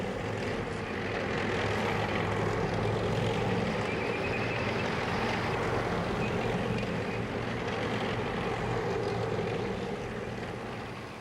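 Propeller aircraft engines in the Vietnam War video game Battlefield Vietnam, a steady, loud droning roar that holds throughout, swelling slightly and then easing toward the end, with no talk.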